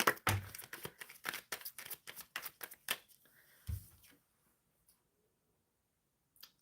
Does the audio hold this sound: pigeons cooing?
no